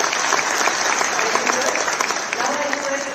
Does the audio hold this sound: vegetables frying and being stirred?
no